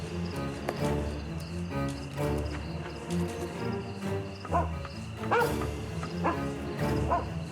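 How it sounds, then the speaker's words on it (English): Tracking dog barking while searching for a trail, with a few sharp barks and yips over a steady bed of music and insect-like chirping. "There's a good dog."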